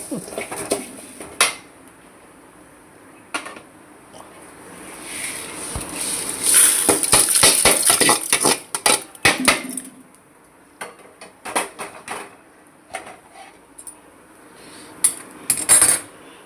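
White urad dal roasting in a metal pan for moringa leaf powder, a spoon scraping and clinking against the pan in irregular bursts, busiest in the middle, with no talking.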